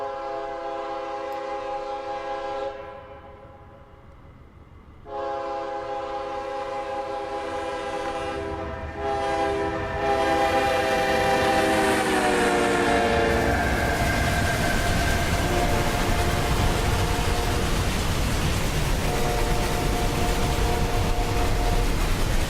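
An Amtrak train in the Train Sim Classic simulator sounds its horn in long sustained blasts, then rumbles past with a swelling roar that stays loud to the end.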